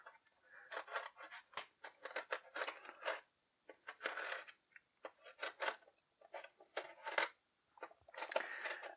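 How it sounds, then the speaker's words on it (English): Packing tape is cut off a G.I. Joe 25th Anniversary Armadillo Tank box set from 2008: many quiet, close snips, scrapes and crinkles in irregular bursts. "Let's go ahead and cut all this tape off."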